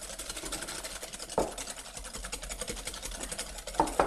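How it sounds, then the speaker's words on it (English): Leg bar eggs beaten with sugar, freshly grated nutmeg and ground cinnamon for eggnog, a fast, even, buzzing whisk rhythm against the bowl with a few louder knocks. "So what I'm going to do is whisk"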